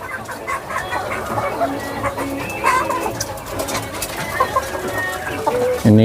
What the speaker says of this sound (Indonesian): Yang sebelah sini adalah kandang ayam petelur.